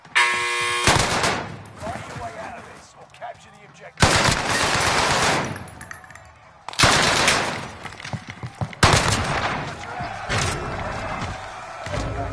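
Four heavy shotgun blasts boom from a video game at spaced intervals, each a sharp, loud crack with a decaying tail, with voices talking and game noise in between.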